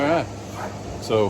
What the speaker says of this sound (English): pardon the dogs barking